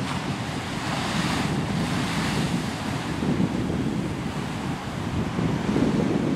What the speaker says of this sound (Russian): Массивные волны.